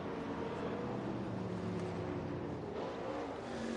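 Race cars at Central Arizona Raceway in Casa Grande, engines roaring steadily down the front straightaway, a loud continuous drone from a distance with no talk.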